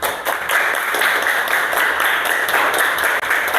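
A class of fifth-grade primary school children applauds together in a classroom, a dense, steady burst of many hands clapping at once that holds for a few seconds at full strength.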